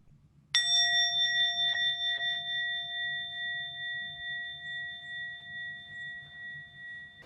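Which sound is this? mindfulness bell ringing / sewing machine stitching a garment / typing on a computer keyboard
mindfulness bell ringing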